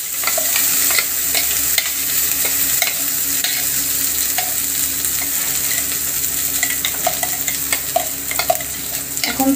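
Ground kharkol leaf paste fries and sizzles in hot oil with nigella seeds and dried chillies, a steady close crackle with frequent stirring scrapes and no talk.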